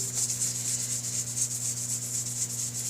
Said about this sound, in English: you keep on going over it with the acetone with 2000 grit.